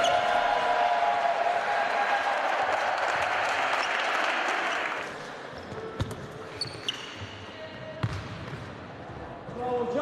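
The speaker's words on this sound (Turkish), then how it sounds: "Bizi alkışlayabilirsiniz." Dense audience applause fills the opening half, then fades into quieter room noise with scattered claps and a few voices speaking.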